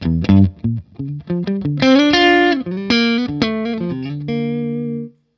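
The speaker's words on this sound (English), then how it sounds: "if I just switch off the Wampler, this is what the amp sounds like completely dry" Electric guitar played clean and completely dry through a PRS Sonzera 50 combo amp, a sequence of plucked notes and ringing chords building to sustained strums that fade out at the end, loud and close.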